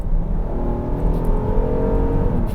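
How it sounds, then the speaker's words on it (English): A 2022 Kia Carnival engine revving in sport mode from inside the cabin, a loud, steady low-pitched drone with rising harmonic tones as the RPMs climb, no talking over it. "So I'm sure you heard that RPM, so it revs the RPMs up even higher"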